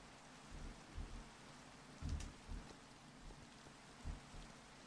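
Rain and thunder in a modded Minecraft game, faint and distant, with soft low rumbles rolling in every second or so beneath a quiet rain hiss.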